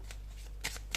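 Tarot and oracle cards being shuffled by hand, quiet riffling with a few sharper flicks close by over a low steady hum.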